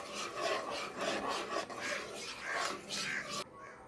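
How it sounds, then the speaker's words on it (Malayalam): Cornflour halwa mixture being stirred in a pan, giving a steady rasping scrape in repeated strokes that ends abruptly near the close. "നല്ലതുപോലെ ഇളക്കി കൊടുക്കണം"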